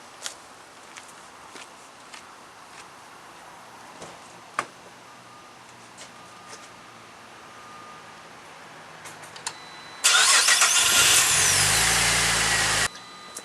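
After quiet clicks and taps, a Pontiac G8 V6 car engine cranks and catches with a sudden loud, rough roar that runs for a few seconds and then cuts off.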